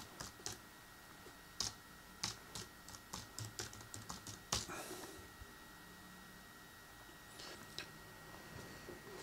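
Password typed on a computer keyboard during a headless Raspberry Pi setup: a run of quiet, irregular key clicks with short pauses, then a few more taps near the end, all close and soft.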